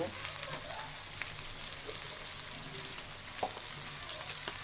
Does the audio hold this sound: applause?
no